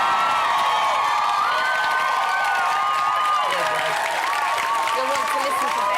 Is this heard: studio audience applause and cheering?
yes